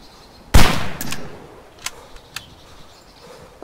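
A loud single gunshot from a DayZ firefight, followed by a few fainter distant shots and small clicks over a quiet background.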